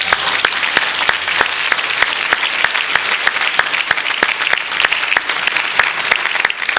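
A church congregation at a pastors' installation service claps and cheers, with sustained loud applause holding steady throughout.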